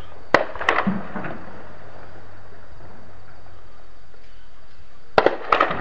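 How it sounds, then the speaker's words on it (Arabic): Gunfire from anti-aircraft guns and heavy weapons during shelling of a town in Daraa: sharp distant bursts of cracking shots at the start and again near the end, separated by a quiet stretch of insect-like background hiss. "قصف بمضادات الطيران والأسلحة الثقيلة"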